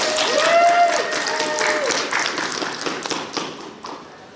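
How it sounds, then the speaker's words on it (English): Applause from the audience at an open mic event, starting with a brief tonal whistle-like sound and then settling into moderate clapping that gradually fades, with some scattered taps and thumps. "Crow, please give Crow a round of applause."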